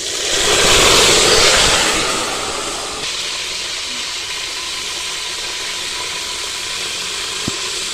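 Water is poured into hot ghee holding cardamom pods for halwa, setting off a loud rushing hiss that surges in the first seconds, then settles into a steady, softer sizzle and steam.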